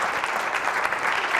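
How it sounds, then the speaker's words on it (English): An audience at a motivational talk for an Upward Bound event at Jacksonville University gives a brief burst of applause, with dense, even clapping that sounds fairly soft and slightly distant. "Can I get a round of applause for not falling up the steps?"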